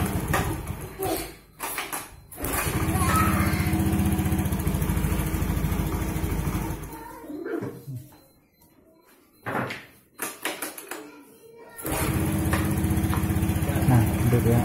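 A Honda Beat FI scooter engine cranks and catches, running steadily and loudly up close, cutting out briefly, then restarting and idling on, with workshop clatter between the runs.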